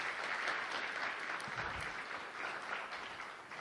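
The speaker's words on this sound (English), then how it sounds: "let's give him one more round of applause" Audience applause at an alumni association health care seminar, a steady, fairly quiet patter of many hands clapping together, sustained without pause.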